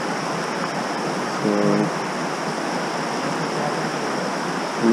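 River water flows steadily through the Narrows canyon in Zion, a broad constant rush of moderate loudness, with one short spoken word briefly over it.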